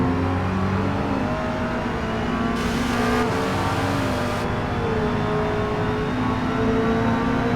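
Race car engines in Forza Motorsport (2023) during an online multiplayer race with a Mazda MX-5 Rocket Bunny, a continuous loud engine drone with shifting revs and gear changes, close and steady throughout.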